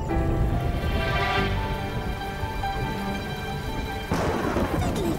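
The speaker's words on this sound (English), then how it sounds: "It's raining!" Steady cartoon rain hisses and patters over low rumbling, with a sudden swell of noise near the end like a heavy gust or thunder.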